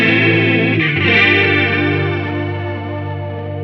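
Guitar run through an RC300/HD500X effects patch that stacks octaves and fifths, a thick sustained chord with chorus-like shimmer and distortion ringing out steadily at close, loud level with no talk.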